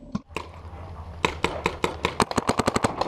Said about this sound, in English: I see Cassie shoot at her again.